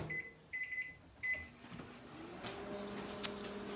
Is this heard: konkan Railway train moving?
no